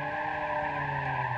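A modded compact Fiat One sliding sideways in BeamNG Drive, its tires holding a continuous, loud, steady squeal with an engine drone underneath for the whole moment.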